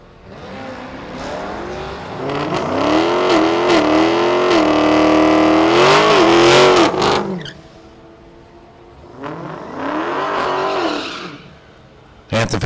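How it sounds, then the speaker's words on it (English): Drag racing cars, including a Hellcat-equipped Dodge Durango, roar and rev loudly as they accelerate down the strip, a long rising engine howl that fades, followed by a second car passing, with a commentator talking over it. "At the finish line, Carolina out front, 1079 at 126."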